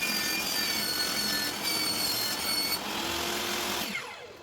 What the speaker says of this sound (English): when you adjust your table saw, you want to lower the blade so that it just touches the bottom lip of the vinyl.